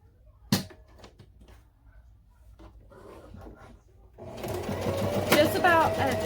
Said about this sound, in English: So I'm just going to baste it.